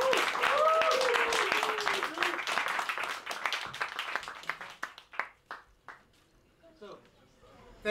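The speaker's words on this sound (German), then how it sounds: "Einen großen Applaus" Audience applause at a crypto meetup, many hands clapping at once, then thinning to scattered individual claps as it dies away, with faint voices underneath.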